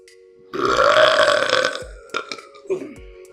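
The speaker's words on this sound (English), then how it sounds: "Juicy burp." A long, loud, juicy burp rolls out after a beer tasting of a Sawdust City Bitter Beauty wheat IPA, followed by a few shorter gurgling aftershocks and mouth sounds close to the mic.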